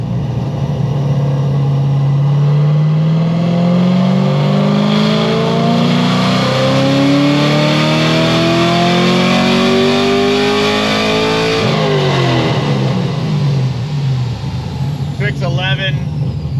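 A car engine revs hard through a full pull, pitch climbing steadily for about twelve seconds before dropping off sharply. The sound is loud and close with a brief high whine near the end.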